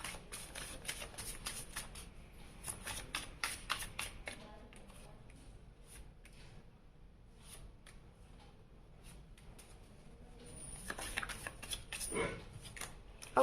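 A deck of tarot cards is riffled and shuffled in close, crisp bursts of flicking and rustling, pausing briefly in the middle before more shuffling at the end, with soft background noise.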